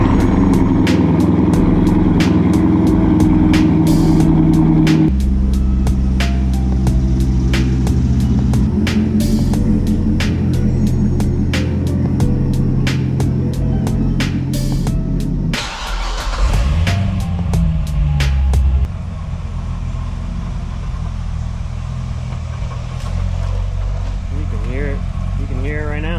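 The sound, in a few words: C6 Corvette ZR1 running loudly after hard driving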